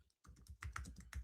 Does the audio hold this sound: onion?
no